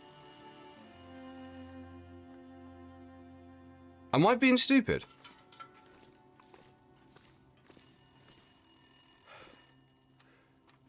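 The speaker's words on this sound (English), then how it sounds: "The phone's ringing." A telephone in a video game rings with a bright, sustained electronic trill, stops, then rings again after a pause, while a person speaks briefly in between.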